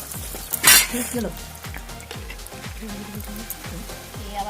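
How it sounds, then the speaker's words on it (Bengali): Vegetable chops slide one by one into hot oil and fry with a bubbling sizzle, while a regular run of clinks and taps from the utensil repeats about twice a second, close by. "তেলের মধ্যে এবার আমি একটা একটা করে ভেজিটেবিল চপগুলো সব ছেড়ে দেবো"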